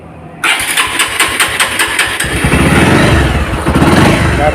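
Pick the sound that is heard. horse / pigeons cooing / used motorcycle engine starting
used motorcycle engine starting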